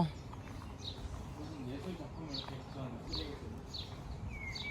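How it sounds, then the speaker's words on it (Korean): Faint bird chirps repeat at intervals in the distance over outdoor background noise and murmur, in a village in Snowdonia, North Wales. "새소리 봐"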